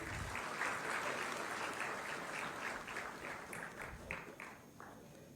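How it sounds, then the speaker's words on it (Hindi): Audience applause at a government appointment letter ceremony for junior assistants and X-ray technicians, a steady wash of many hands clapping that thins toward the end into more distinct separate claps. "आप सभी की तालियों में ऊर्जा की थोड़ी कमी है"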